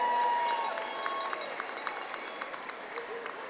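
An audience claps for a school counseling department at a back-to-school staff gathering, the applause dense at first and then thinning into scattered claps over a crowd murmur.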